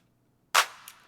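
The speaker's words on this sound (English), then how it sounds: "And that was just for these claps here." A single layered clap sample from an FL Studio G-funk beat, treated with light reverb: one sharp, bright crack followed by a brief airy tail and a faint second flick, heard alone.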